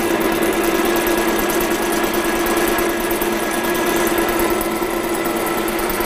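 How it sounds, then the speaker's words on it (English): A metal lathe, with cutting fluid running, whirs in a steady high-pitched machine drone, continuous and fairly loud with a constant tonal hum and no talk. "And now I'm going to start doing my machining process."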